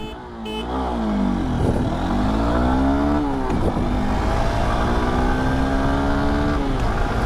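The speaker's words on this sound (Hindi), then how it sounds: "चलिए इसकी जो एक्सेलरेशन टेस्ट है वो भी करते हैं" A 2024 motorcycle from a Bajaj Pulsar N150 versus Honda SP160 comparison pulls hard in first gear during an acceleration test, its engine note climbing steeply in loud, close, rising sweeps with a gear-like dip partway through, and no talk.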